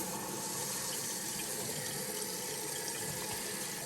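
Water pours into a Kohler toilet tank with a canister flush valve once the supply is turned back on, a steady, moderately loud rushing hiss that runs unbroken and alone.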